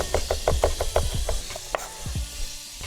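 A knife chopping garlic sprinkled with salt on a board, a quick run of close, crisp knocks followed by a few slower, scattered chops.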